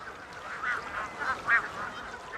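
Geese honk on a high plateau where hundreds of them gather, giving several nasal calls at a moderate distance with one louder honk near the middle.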